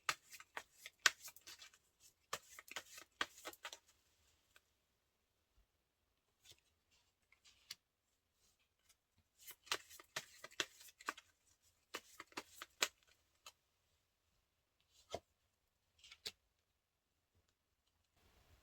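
Tarot cards are shuffled and drawn in bursts of crisp riffling, flicks and taps, close and fairly quiet, with pauses of near silence between the rounds.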